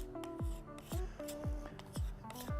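Wood putty scraped back off a drawer front after being pressed into knots and holes, heard as five repeated rasping scrape strokes, each ending in a low thud, close and moderately loud with no talking.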